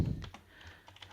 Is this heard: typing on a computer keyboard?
yes